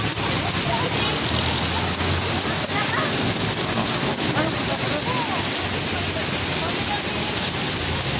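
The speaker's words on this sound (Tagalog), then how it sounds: "Guys, sobrang lakas ng ulan." Heavy rain pours in a steady, dense roar that stays even and loud throughout, with no breaks.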